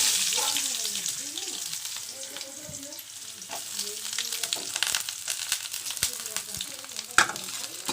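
Chopped onions hit hot oil in a kadai with mustard seeds and curry leaves, giving a close crackling sizzle with scraping stirs and occasional sharp pops, a faint voice now and then.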